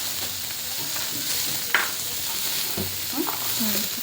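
A tomato mixture with salt sizzles and fries in a pan while being stirred, close and steady with occasional scrapes.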